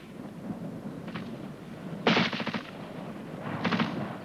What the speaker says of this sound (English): The time between the crack and the thump gives an indication of the range.